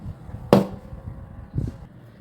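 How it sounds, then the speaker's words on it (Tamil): A knife strikes a cutting board with one sharp chop, then a softer second cut a second later, halving small onions close up in a quiet room. "சின்ன வெங்காயம் வந்துட்டு நான் ரெண்டு ரெண்டாக அரைஞ்சி கட் பண்ணிக்கிறேன்"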